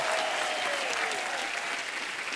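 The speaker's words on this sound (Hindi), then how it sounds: "पाजी का बेटे का शादी हुआ, कारण के लिए एक बार जोरदार तालियां हो जाए" Studio audience applause on a Hindi comedy talk show, a dense, steady wash of clapping with a faint whistle-like tone sliding down early on.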